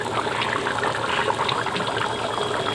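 A vegetarian paneer curry simmers vigorously in a pan, giving a continuous close hiss and bubbling that rushes like running water, steady and moderately loud from start to finish.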